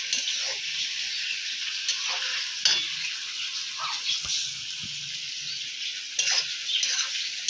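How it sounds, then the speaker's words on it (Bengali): Chopped onions fry in hot oil with cardamom and cloves, a steady close sizzle broken by occasional scraping stirs of a spoon in the pan, with no voices. "পেঁয়াজটা ভাজা ভাজা হবে"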